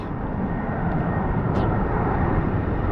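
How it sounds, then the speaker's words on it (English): An airplane drones overhead above a row of thatched-roof houses in an English village, a steady broad rumble filling the whole moment with no talk over it. "There's a plane going overhead."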